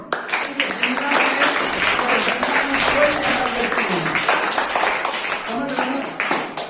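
An audience at a celebration of Babasaheb Ambedkar's 134th birth anniversary claps steadily throughout, with talking mixed in over the applause.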